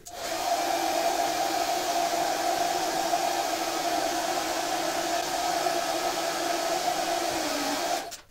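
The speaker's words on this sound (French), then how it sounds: "si on venait chauffer cette zone avec un sèche-cheveux par exemple" A hair dryer blows continuously onto the circuit board of an Asus VW266H monitor, producing a loud, even whooshing hum with a steady motor whine that starts abruptly and cuts off after about eight seconds.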